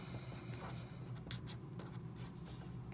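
Someone writes a chemistry equation by hand during a lecture on cell voltage and Gibbs free energy, making faint, close scratchy pen strokes in short irregular bursts.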